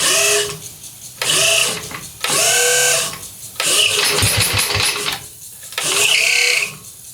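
Engine of a 1966 Sears Custom lawn tractor cranking over repeatedly, with loud bursts of starter grinding separated by short pauses and one longer rough attempt in the middle.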